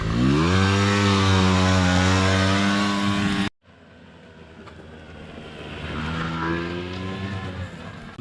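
A scooter engine revs loudly and close by on an obstacle course, its pitch climbing and then holding. After an abrupt cut, another stretch of engine revving follows, softer and more distant, rising and falling.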